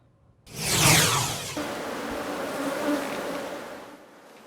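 Bees in Bolivia buzz loudly in a sudden close swarm that swells, then settles into a steady droning hum which fades slightly toward the end.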